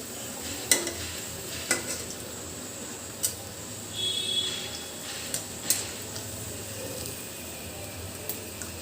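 Fish frying in a pan, a low steady sizzle with a few sharp clinks of a utensil against the pan as the pieces are turned, fairly quiet and close.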